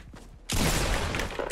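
In Fortnite, incoming gunfire aimed at the player erupts suddenly into a loud, dense barrage of shots that keeps rattling without pause to the end.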